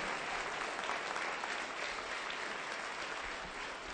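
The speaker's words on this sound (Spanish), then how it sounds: "Denle un aplauso de gratitud." A church congregation breaks into sustained applause of gratitude during a Spanish-language worship service, a dense, even wash of many hands clapping, fairly distant and soft, steady from start to finish.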